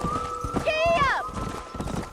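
A horse in the Western video game Red Dead Redemption, with a short whinny and hoof clatter as it sets off at a gallop, heard under game speech and music.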